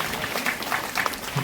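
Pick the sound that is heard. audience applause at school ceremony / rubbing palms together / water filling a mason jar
audience applause at school ceremony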